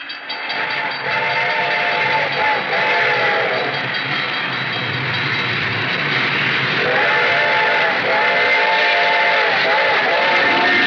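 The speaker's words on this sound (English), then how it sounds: "The train was coming closer. I could hear its bell ringing and the cry of its whistle." Train approaching in a 1941 radio drama effect, a steady loud rumble with a bell ringing in clustered tones near the start and again later, a shrill whistle cry layered over the rolling noise.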